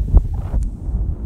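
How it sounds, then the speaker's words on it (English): Gusty wind buffets the microphone on a mountain top in the Whistler backcountry, a brief low rumbling roar with uneven swells. "I also apologize if it gets a bit windy."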